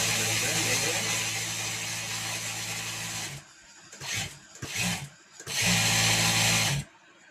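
An electric sewing machine stitches the border of an open abaya, running in a loud steady whir, stopping, then giving two short bursts before one more long run.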